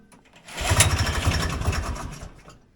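Someone yanks the pull cord on the small engine of a vintage Polaris Colt snowmobile, giving a close, rapid chugging rattle that swells, sputters for about two seconds without catching, and fades away.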